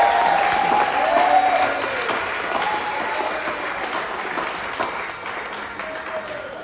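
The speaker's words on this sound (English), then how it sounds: "round of applause for Emma" Wedding guests applaud a best man's toast at James and Tori's reception, a steady clapping crowd that swells near the start and then holds a dense, even patter throughout.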